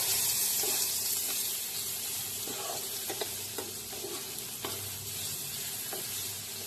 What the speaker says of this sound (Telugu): కనిపిస్తుంది కదా, ఇట్లా కందిపప్పుని కడుక్కుంటున్నాను